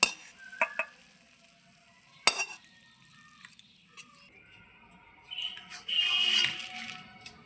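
Fish head muri ghonto is tipped from a pan into a bowl. A spoon clinks and scrapes against the metal a few times, then a longer soft scraping pour follows near the end.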